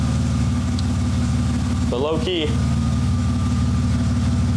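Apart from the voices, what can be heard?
BMW car engine idling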